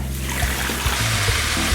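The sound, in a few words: water being poured into a pot of toasted rice and vermicelli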